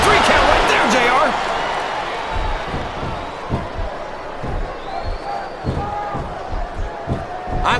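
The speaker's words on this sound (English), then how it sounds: "Now the fans start to cheer for him." Crowd cheering in the WWE Smackdown vs Raw 2007 wrestling video game on Xbox, a steady arena roar with rhythmic thuds and slams beneath, loudest at the start and running under commentary voices.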